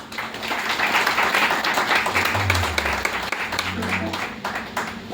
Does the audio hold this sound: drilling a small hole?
no